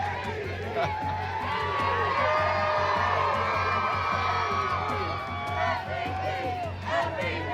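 Eagles supporters cheer in a dense, continuous crowd roar, with whoops, shouts and high yells layered over a steady din that holds at full volume throughout.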